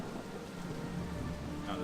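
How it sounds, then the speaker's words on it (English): Steady rain ambience from the video game Torchlight II, a dense continuous hiss of falling rain filling the scene at a fairly loud level, with a low rumble beneath. "sound of the rain that needs to be turned down."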